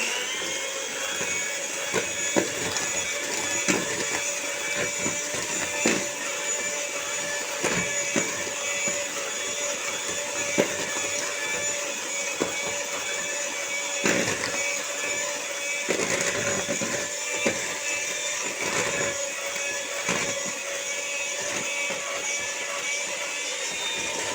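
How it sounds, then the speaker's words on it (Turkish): An electric mixer whirs steadily while blending lemon cake batter in a home kitchen. The motor hums loud and close for the whole stretch, with occasional clacks against the bowl. "Şöyle güzelce kekimi karıştırıyorum mis gibi koksun."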